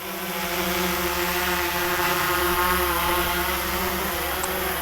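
A DJI Mavic Air 2 drone fitted with Master Airscrew stealth propellers hovers nearby, giving a steady, loud whirring buzz with sustained tonal hum that holds evenly throughout.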